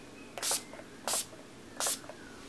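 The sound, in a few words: setting spray squirted from bottle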